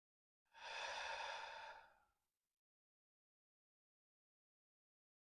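A single deep, slow breath during a relaxation breathing exercise, a long airy exhale-like rush lasting about a second and a half, close and clear, followed by silence.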